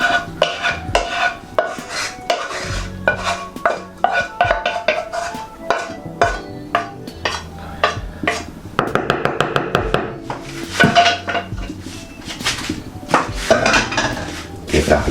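Glutinous rice flour porridge scraped out of a bowl with a utensil, a busy run of repeated clinks and scrapes against the dish, loud and close with no talking.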